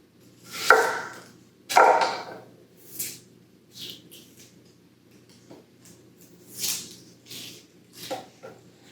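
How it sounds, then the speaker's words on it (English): Rough chopping of white onions with a knife on a board, several sharp separate chops, two louder strikes early and lighter cuts after, close up with no talk. "just rough chop a couple of white onion here"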